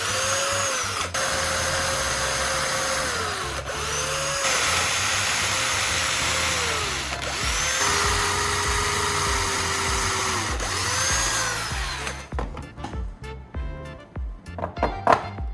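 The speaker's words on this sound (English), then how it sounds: "Now, I will drill the holes at the marked positions." A power drill drilling holes in wood whines at a steady pitch, its motor dipping and rising between bursts, then stops and gives way to clattering handling noises.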